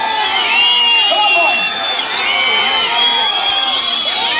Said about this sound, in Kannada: ಕಮಾನ್ ಜೋರ ಚಪ್ಪಾಳೆ ಕೊಡಿ ಎಲ್ಲ ಜಿಲ್ಲೆ ಮಕ್ಕಳಿಗೆ